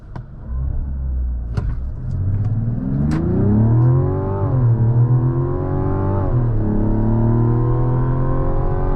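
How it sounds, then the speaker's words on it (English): A 2024 Mazda CX-90 Turbo S SUV's inline-six engine revs up hard through the gears, a steady rising drone with clear shifts, loud and close, with no talking. "you can hear that incredible inline-6 sound"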